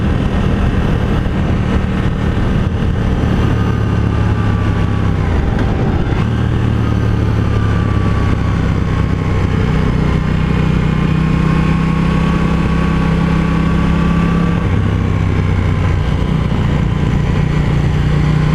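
A KTM 790 Duke motorcycle's engine with Austin Racing dual under-seat exhaust runs in a steady, loud, close drone with wind rush, the pitch rising and falling gently as the throttle shifts.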